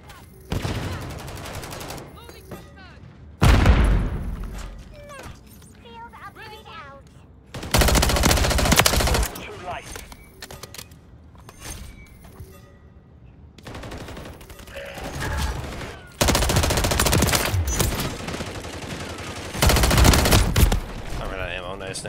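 Gunfire in Call of Duty Modern Warfare 3 during a war mode match: several loud bursts of rapid automatic fire, separated by quieter stretches of game sound, with no talk over it.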